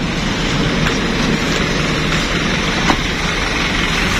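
Steady, dense rain falls at dusk in Jambi, a continuous loud hiss with occasional faint patters and no voices.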